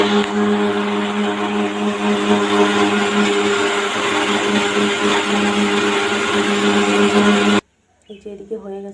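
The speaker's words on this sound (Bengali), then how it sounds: "মশলাগুলো পেস্ট করবো, আদা রসুন পেঁয়াজ।" A mixer grinder whirs loudly and steadily as it grinds ginger, garlic and onion into a spice paste, then cuts off abruptly near the end, leaving faint kitchen sounds.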